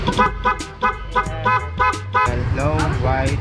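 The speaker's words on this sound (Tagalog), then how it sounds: "Ito yun, G-Star horn na version 2, ganito yung tunog." A G-Star version 2 aftermarket horn fitted to a motorcycle, wired to the passing light, blares in a rapid series of short, loud toots and then a longer warbling blast, with a man calling out over the sound.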